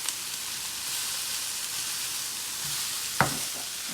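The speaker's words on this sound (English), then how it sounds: "We're just gonna keep stirring it, constantly stirring it, taking what's at the bottom and shifting it to the top until it's all cooked" Ground meat and cabbage for an egg roll bowl frying in a pan, a steady soft sizzle and hiss running throughout, with one brief clack of a spoon against the pan near the end.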